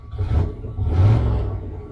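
An 800-horsepower truck engine with a 5-inch exhaust revs twice in quick succession, giving a deep, loud, close rumble that swells and fades.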